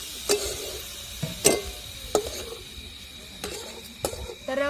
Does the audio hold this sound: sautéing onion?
yes